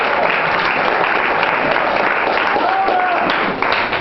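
Audience applause and clapping at a religious teaching gathering, a steady dense wash of hands running loud throughout, with voices mixed in underneath.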